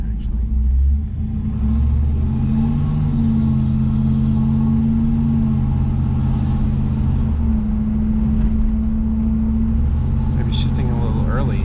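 A 1984 Camaro Z28 engine rumbles steadily while driving, a deep continuous drone with gentle rises and dips in pitch as it shifts, ending with a few faint rattles near the end.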